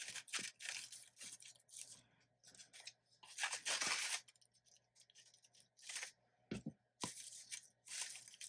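Scissors cutting paper for a shabby kissing booth craft, a series of close crisp snips and slicing strokes with brief pauses between cuts.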